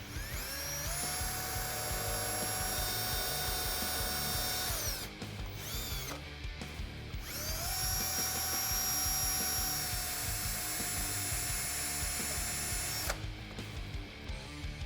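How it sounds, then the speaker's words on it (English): A power drill with a 3/16 inch bit whines loudly in two long bursts drilling a pilot hole on a Jeep Wrangler JL, winding up in pitch at each start, with a brief pause between runs. "what we can do is drill a pilot hole"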